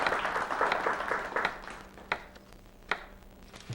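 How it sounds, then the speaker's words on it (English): Studio audience applause from a group of visitors at a cooking show taping, a dense burst of clapping that thins out into a few scattered claps. "Applaud yourselves."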